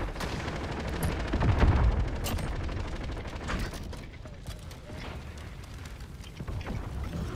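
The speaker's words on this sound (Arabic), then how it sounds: "هذا رصاص هذا رصاص" Dense, chaotic gunfire from Call of Duty: Modern Warfare, bursts of shots and rumbling blasts rolling over a constant noisy backdrop, heaviest near the start.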